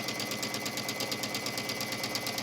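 A sewing machine stitches a seam in silk charmeuse with a small size 10 needle and contrasting thread, running at a steady, fast, even whir and chatter of needle strokes throughout.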